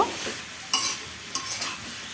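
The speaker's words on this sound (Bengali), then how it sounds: "এবার নাড়ে চেড়ে সবজিগুলোকে মশলার সাথে মিশিয়ে নেব।" Vegetables and spices are stirred in a hot pan, a close, steady sizzle with two or three sharp scraping strokes of the spoon, no voices.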